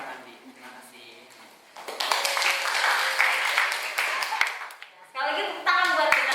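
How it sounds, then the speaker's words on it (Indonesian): A classroom of students bursts into dense, sustained clapping and applause, loud and close, with voices chattering and calling out over it and a brief lull before the clapping picks up again. "Sekali lagi tepuk tangan buat kita semua."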